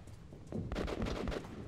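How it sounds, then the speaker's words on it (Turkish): Distant gunfire in the video game Metro Exodus, a burst of several muffled shots rolling in quick succession after a quieter stretch, heard alone with no talk. "Bir silah sesleri geliyor"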